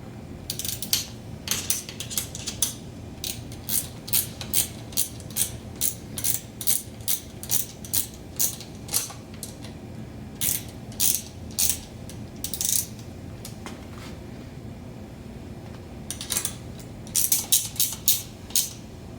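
A ratchet wrench clicks steadily in quick bursts of rapid strokes, turning a nut while fitting cheap dynamo lights to a large-frame Trek hybrid bicycle; close and fairly loud, with short pauses between runs and no talking.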